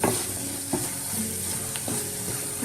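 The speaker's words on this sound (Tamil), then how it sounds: "மஞ்சத்தூள் அதையும் போட்டு இந்த தக்காளியோடு சேர்த்து நல்லா வதக்கிடுங்க." A pan sizzling and frying steadily as chili powder, turmeric and tomato are sautéed for South Indian fish curry, while a utensil stirs and scrapes, with occasional soft knocks against the pan.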